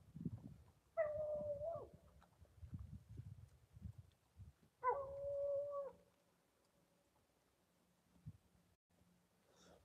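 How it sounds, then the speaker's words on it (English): Hunting dogs trailing a mountain lion in desert bighorn sheep country let out two long, drawn-out bays a few seconds apart, faint and distant, over low rustling and quiet outdoor background. "I love to watch those dogs trail."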